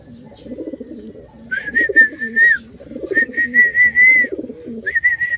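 Pigeons coo nearby in repeated low, throaty bursts, mixed with three sustained high whistling calls that rise and hold before breaking off, in a quiet setting.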